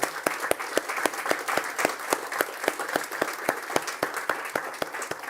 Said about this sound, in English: so I think a round of applause for the staff here